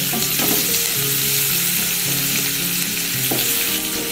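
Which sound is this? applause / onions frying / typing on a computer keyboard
onions frying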